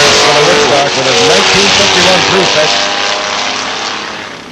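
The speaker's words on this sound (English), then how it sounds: "Racing against a 73 Monte Carlo, Steve Kuta." A 1951 Prefect and a 1973 Monte Carlo drag race down the strip, loud engines roaring and shifting pitch as they pull away, while an announcer talks over the noise and the sound slowly fades.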